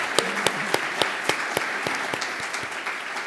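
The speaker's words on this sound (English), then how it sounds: "Let's give these three a round of applause" An audience at a chamber of commerce awards gathering applauds, a dense bed of clapping overlaid with a few louder, rhythmic near claps landing at a steady beat.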